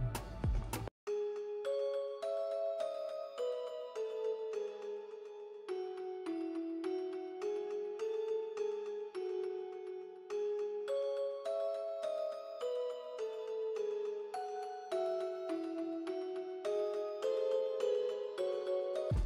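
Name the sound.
old Celeste bell from Expand plugin with delay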